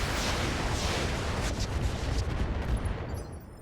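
A volley of medium range missiles fired by a battlemech in RogueTech, heard as a dense, rumbling rush of launches and impacts that stays loud and steady before fading slightly at the end.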